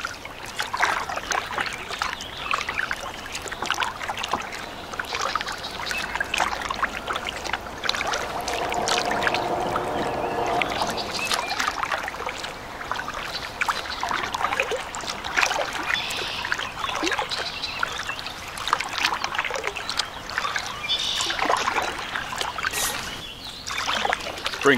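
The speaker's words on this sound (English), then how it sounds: "I haven't been kayaking for a while either." A kayak paddles along the Union Canal on a calm day, the blade dipping and dripping in soft, irregular splashes and trickles close by, fairly quiet throughout.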